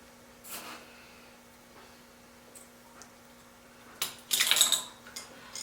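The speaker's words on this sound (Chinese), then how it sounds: "把它们简单搅一下。" Flour and sugar stirred in a bowl with a utensil, a few soft scrapes early on, then a sharper clatter of utensil against the bowl near the end, close up with quiet pauses between and no speech.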